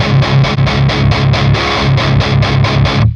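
Palm-muted distorted electric guitar through a Quad Cortex capture of a Diezel VH4 amp, chugging in a steady run of about a dozen tight, even strums, loud, dense and sizzly, with no voice over it.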